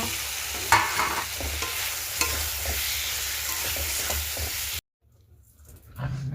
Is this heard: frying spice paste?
yes